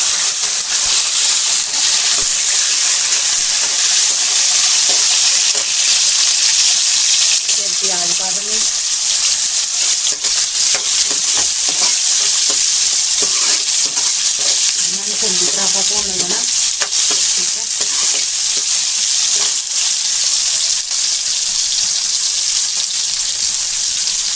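Garlic frying in a hot pan on a home stove, with a steady bright sizzle throughout and repeated scraping stir strokes near 8 and 15 seconds.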